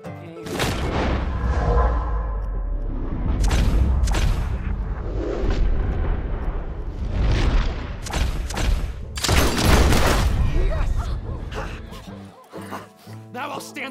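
Loud gunshots crack and boom in an irregular burst, several heavy blasts spread across the stretch with brief gaps, close and dominant, with voices reacting between shots.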